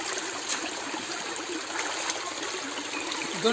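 Mountain stream water runs steadily near a waterfall in hilly country, a continuous close rush and trickle with no talk over it.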